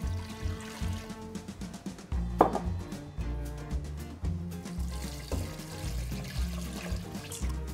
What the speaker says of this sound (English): We're gonna add in the chuck, and we have 6 cups of water.